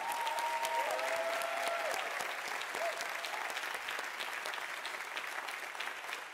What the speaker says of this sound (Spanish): ¿Por qué no aplaudimos al Señor y damos gloria?